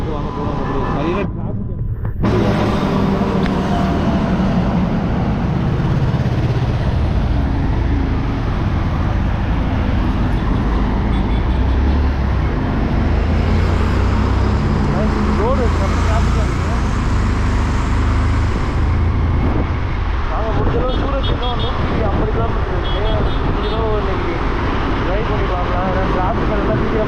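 Continuous roadway traffic roars around a motorbike on a long ride from Pudukkottai to Ladakh, with a steady rumble of passing vehicles and wind, constant and fairly loud throughout.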